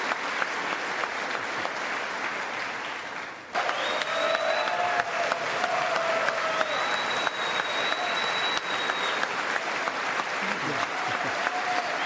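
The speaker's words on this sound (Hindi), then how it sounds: "तो ये देखिए आपको तालियों की आवाज" A large audience at Prime Minister Modi's speech during his US visit applauds steadily, a dense, sustained wash of clapping from a standing crowd, with a faint voice briefly audible in the mix.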